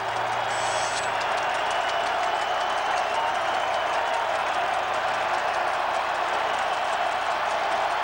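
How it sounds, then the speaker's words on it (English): Football stadium crowd at an NFL game between the Indianapolis Colts and Tennessee Titans in 2003, a steady broad roar of cheering and applause that holds evenly throughout, distant and diffuse with no clear voices standing out. "And here comes the crowd."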